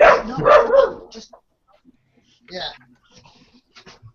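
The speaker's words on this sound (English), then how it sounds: "Angry. Stupid little dog." A small dog barks and yips near the microphone in short bursts with pauses, mixed in with people talking.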